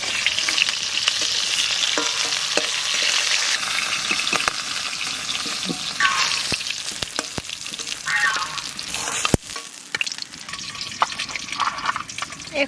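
Large black pomfret fish frying in oil in a village-style kitchen, a loud continuous sizzle and hiss with occasional clinks and stirring sounds, no talking.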